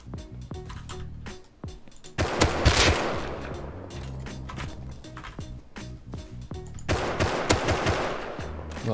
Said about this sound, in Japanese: うわ、これボルアク拠点から撃たれるぞ。